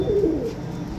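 A racing pigeon gives a soft, low coo close by, one brief throaty call over faint background noise.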